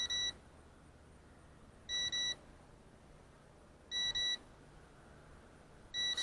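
Short electronic beeps in quick pairs repeat about every two seconds over a faint, steady background hum, with no voices: a KF101 GPS drone's altitude-limit warning at 120 meters.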